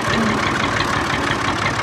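A tractor engine runs steadily, loud and close, with a dense, even rumble and no talking, recorded while riding through village fields.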